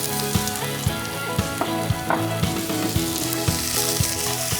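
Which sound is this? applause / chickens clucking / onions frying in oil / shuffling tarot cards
onions frying in oil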